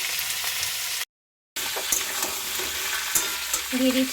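Potatoes sizzle in hot oil alongside chopped pumpkin and pumpkin greens, a steady close frying hiss with a brief dropout partway through and a few clinks near the end.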